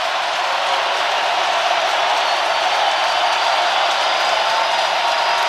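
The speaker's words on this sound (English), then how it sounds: "as this crowd is getting into it" Stadium crowd roaring steadily through an NFL game between the New York Giants and New Orleans Saints in New Orleans, a dense, loud, unbroken wash of cheering with no distinct voices standing out.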